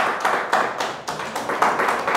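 Students clap in a classroom in a steady, deliberate rhythm of about four claps per second, each sharp and distinct, close and fairly loud with no talk over it.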